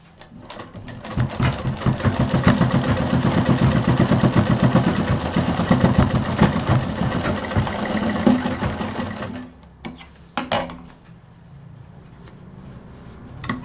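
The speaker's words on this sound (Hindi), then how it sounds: "इसको भी बराबर से यहाँ पे सिल देंगे।" A sewing machine runs in a fast, continuous rattling burst while stitching a fabric mobile pouch, then stops with a few sharp mechanical clicks and quiet handling.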